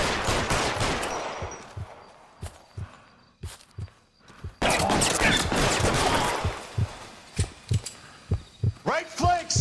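Gunfire during an L.A. Noire shootout: sharp, separate shots at irregular intervals, some close and loud, others lighter, mixed with bursts of noisy action and someone shouting in between.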